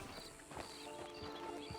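Horse hooves clip-clop steadily on the ground in the video game Red Dead Online, a quiet rhythmic stream of footfalls with faint ambient sound.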